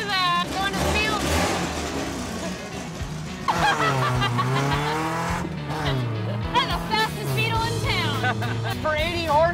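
A small Volkswagen Beetle with an 80-horsepower engine pulls away and accelerates hard, its engine note rising and shifting steadily and loud, with excited voices and laughter over it.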